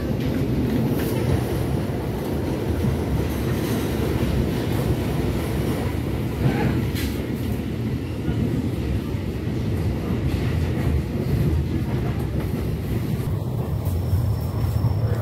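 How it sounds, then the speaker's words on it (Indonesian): A fuel tanker train of oil wagons rolls through Malang Kota Lama station, a steady broad rumble and rattle of wheels sustained throughout, fairly loud and close with no voices. "Dan ini ada kereta ketel teman-teman"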